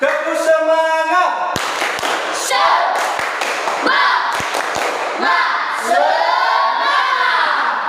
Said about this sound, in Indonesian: Sekali lagi belum semangat. Tepuk semangat.